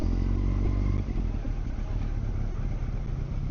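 A 20-year-old motorcycle is ridden, its engine a loud, steady low drone with rumbling and wind, continuous throughout.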